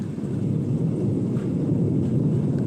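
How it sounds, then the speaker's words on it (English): Low rolling thunder during a live storm in Granite Falls, North Carolina, a deep sustained rumble that stays fairly steady and moderately loud, with no voices over it. "You're witnessing a live storm in Granite Falls, North Carolina."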